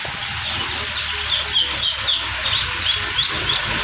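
White Muscovy ducklings, one to three days old, give repeated thin high peeps over a steady background hiss, spaced irregularly and fairly close.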